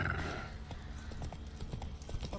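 Roach the horse trotting in The Witcher 3, a steady run of hoof clip-clops over a game ambience bed, close and moderately loud throughout.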